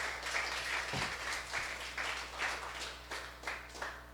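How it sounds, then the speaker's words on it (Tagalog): A church congregation applauds during a Sunday service, a broad, sustained round of many hands clapping that swells and recedes slightly, heard somewhat far off in a reverberant hall. "Kaya pwede ba natin siyang palakpakan ng ating pinakamataas sa palakpak."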